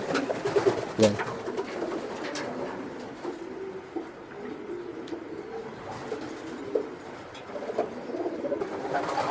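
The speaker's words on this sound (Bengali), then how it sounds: "এই যে দেখেন কবুতরগুলা" Racing pigeons in a large breeding loft, soft overlapping cooing and murmuring from many birds nearby, with light wing flutters and faint background voices.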